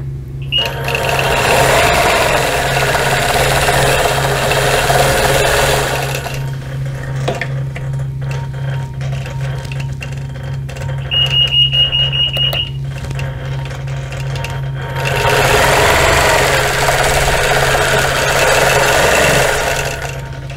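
Sewing machine stitching a Flying Geese quilt, running in two long, loud bursts of rapid mechanical whirring, separated by a quieter stretch of handling noise and a short, high-pitched mechanical tone.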